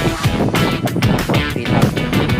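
Strong wind buffets the microphone in Legazpi City near Mayon Volcano, producing a loud, continuous roar with low rumbling gusts throughout.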